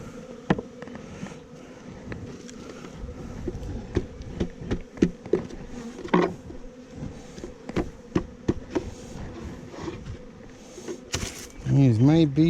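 Honeybees from a weak colony buzzing as they are shaken off frames into a nuc box, a steady insect hum with thumps and knocks of handling, ending in louder rumbling bumps.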